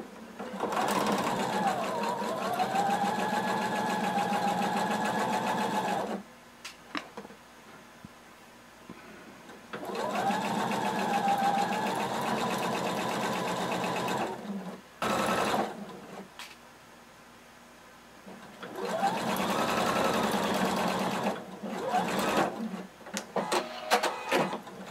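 A sewing machine stitches fringe along the top edge onto a kimono sleeve, humming steadily in three long bursts separated by pauses full of small handling clicks, close and fairly quiet.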